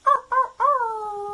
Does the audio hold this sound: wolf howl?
yes